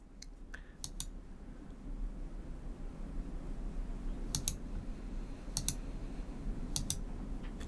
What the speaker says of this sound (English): I'm going to select each one and I'm going to click the Delete button